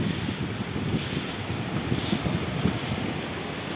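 Strong, steady wind roars at the sea in Real, Quezon, as a typhoon nears, with the wash of waves underneath, loud and continuous with no voices.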